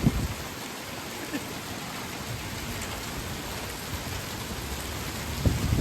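Ice from a Calgary hailstorm pours down in a steady, loud hiss of hard pelting across surfaces, continuous and close, with a few sharper knocks near the end.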